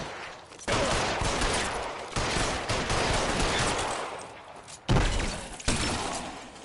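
Dense bursts of video game gunfire, loud and close, with rapid overlapping shots sustained across the span and sharp fresh volleys near the end, no talking.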